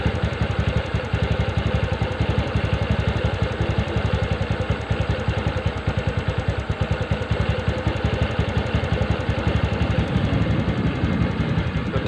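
A TVS Ntorq scooter engine idles steadily at raised RPM, a continuous close, loud, even putter with fine rapid firing pulses and no talk over it.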